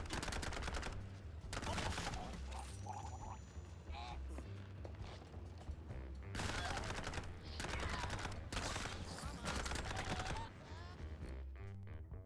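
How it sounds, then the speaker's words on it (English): Repeated pistol gunshots in the video game Mouse P.I. For Hire, loud sharp cracks in rapid clusters across several bursts over a busy game soundtrack. "Pistol."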